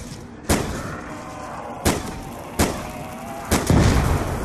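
Four sharp, loud gunshots ring out one at a time in a zombie survival game, spaced unevenly over a few seconds above a low ambient rumble, with a denser thump at the end.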